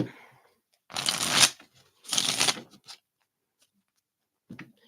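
Mini Rider Waite tarot cards are shuffled up close in two quick riffling bursts, followed by a soft, brief tap near the end.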